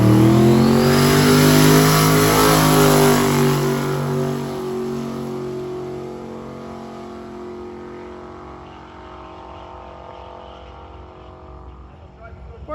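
A drag race car launches and roars away down the track on a scorching 107-degree day, loud engine howl at the start that steadily fades as it pulls into the distance.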